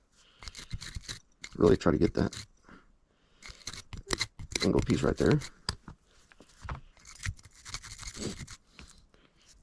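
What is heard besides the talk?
toothbrush scrubbing pistol parts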